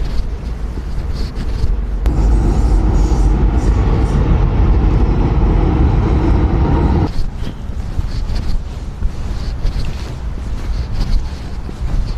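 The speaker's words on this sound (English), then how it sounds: "I'm recording the train." Passing train in downtown Calgary, a loud rumbling roar that swells for several seconds amid wind buffeting on the microphone, then drops back to outdoor street noise.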